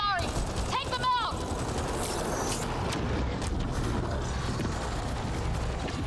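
Heavy automatic gunfire rattles in a sci-fi shooter video game, dense rapid bursts with mechanical clanks underneath, following a brief whining electronic sweep at the start, steady and loud throughout.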